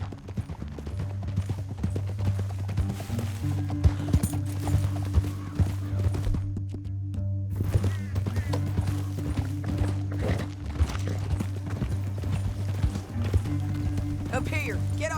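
Horse hooves clip-clopping steadily through a Red Dead Redemption 2 scene, set against a constant low musical drone and other game sounds, while characters talk over them.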